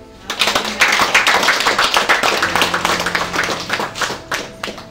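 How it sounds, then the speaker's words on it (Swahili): A church congregation at a celebration-of-life service claps for Jesus, a dense, lively burst of many hands clapping together, rising quickly and holding steady with a few sharper taps near the end. "Pigia Yesu makofi"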